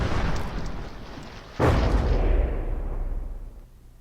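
A heavy cannon shot in From the Depths, fired at the Empress of Ireland ship, lands as a sudden loud boom over steady background rumble, then decays into a long fading roar.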